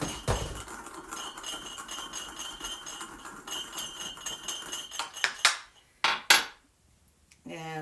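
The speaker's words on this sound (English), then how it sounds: "I'm just going to crush it up a little bit with a mortar and pestle" Dill being crushed with a mortar and pestle in a home kitchen, a run of light scraping and grinding taps, then several sharper clacks and knocks near the end, fairly quiet and close.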